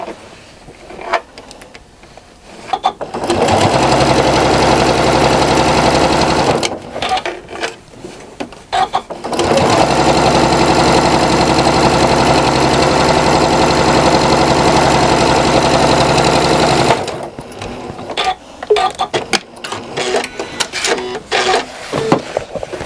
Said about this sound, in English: I'm going to match the folds and I'm just going to stitch it closed.